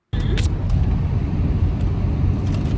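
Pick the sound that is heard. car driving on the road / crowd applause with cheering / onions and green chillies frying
car driving on the road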